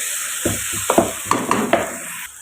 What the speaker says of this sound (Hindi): यहाँ पर हमारी अरवी फ्राई हो रही है।